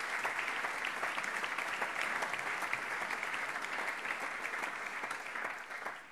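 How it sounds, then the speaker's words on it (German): A parliament chamber fills with sustained applause during a plenary session, many hands clapping densely and evenly for about six seconds before it starts to fade. "Applaus"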